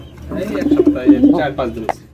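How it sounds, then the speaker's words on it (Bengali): A male Bombay pigeon coos close by in one short, rolling, throaty phrase. "এটা হচ্ছে নরকবুতর"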